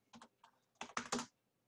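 Several quick keystrokes on a computer keyboard, a short burst of clicks followed by a louder cluster, close and clear in quiet surroundings.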